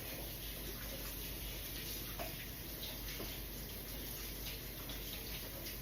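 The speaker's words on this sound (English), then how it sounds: "I'm gonna rinse my hands off here really quickly" Hands are rinsed under a running kitchen tap, a steady loud close rush of water that holds even throughout, with faint splashes from hands moving in the stream.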